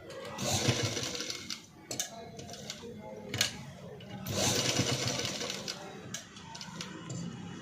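A sewing machine double stitches the neckline of a blouse, its needle chattering in rapid, even bursts up close, pausing briefly between runs.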